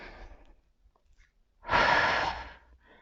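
A single deep, audible inhale from a Pilates instructor mid-exercise, a close airy breath lasting about a second after quieter breathing.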